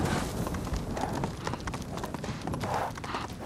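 Hoofbeats from a galloping horse in the video game Ghost of Tsushima, a continuous rapid clopping run over a dense rumbling bed, fairly close and steady throughout.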